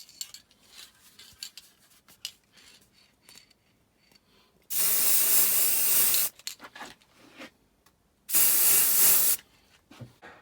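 Two long, loud hisses of an aerosol can spraying black paint after welding, each lasting a second or more, separated by quieter handling and clinking sounds.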